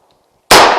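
A single loud, sharp gunshot strikes a PASGT-style NP550 ballistic steel helmet rated NIJ level IIIA+, bursting abruptly after a quiet lead-in and ringing on briefly with a harsh metallic crack.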